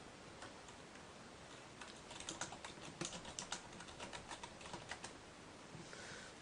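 Steady typing on a computer keyboard, entering a document title in all caps: dense, quick clicking keystrokes, close and clear, over a constant background hiss, growing busier toward the middle and thinning near the end.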